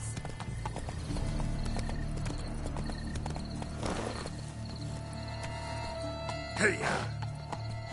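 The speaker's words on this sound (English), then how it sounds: "You're better off on horseback." A horse galloping in The Witcher 3 video game, a fast rhythmic clip-clop of hooves that runs throughout at a steady moderate level, with a brief whinny and short spoken lines over it.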